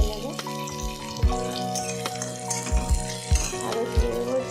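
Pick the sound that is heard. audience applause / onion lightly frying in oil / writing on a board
onion lightly frying in oil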